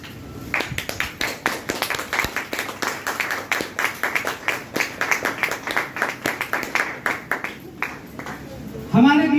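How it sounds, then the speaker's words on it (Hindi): A standing audience at a training seminar claps loudly in a regular, unified rhythm, beat after beat for several seconds, before a voice cuts in at the end. "ऐसी शख्सियत है जिनको बुलाने से पहले मैं चाहूंगा खड़े होकर जोरदार तालियां"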